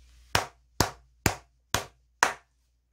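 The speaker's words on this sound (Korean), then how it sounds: "여기서 크게 박수 한번 치고 가도록 하겠습니다." Five single hand claps, loud and close, evenly spaced about half a second apart in otherwise quiet surroundings, with no voices.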